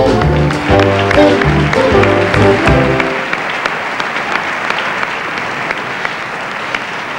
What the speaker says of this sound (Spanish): Un aplauso para Silvana Mangano